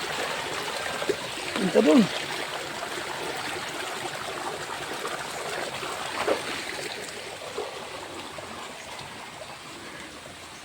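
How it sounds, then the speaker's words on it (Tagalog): A large river flows strongly past a boat crossing to the far bank, a steady broadband rush of water running throughout, with brief speech and a few voices near the start. "Lakas ng tubig eh."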